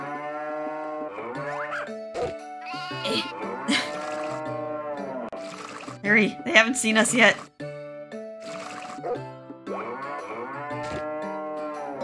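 Cows moo repeatedly in the farming video game Harvest Moon: Tale of Two Towns. Long, loud, drawn-out calls come over a game soundtrack, with a voice speaking briefly partway through.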